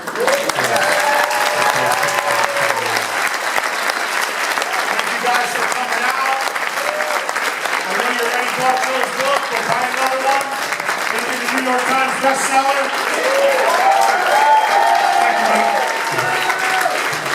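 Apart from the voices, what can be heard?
audience applause at a book event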